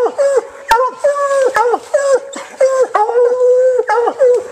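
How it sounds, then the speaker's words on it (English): Coon hunting dog baying repeatedly at a raccoon den tree, a series of loud, close, drawn-out howling bays in an uneven rhythm with short gaps between them. "The dog was treed."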